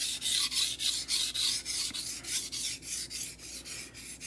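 Knife being thinned on a sharpening stone, the bevel ground down toward an apex: a steady back-and-forth rasping scrape in quick, even strokes, close and loud with no voices.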